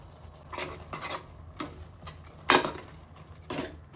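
Sliced mushrooms with chilli powder fry softly in a pan while a spoon scrapes and stirs them in a steady rhythm of quiet strokes roughly every half second, with no talk.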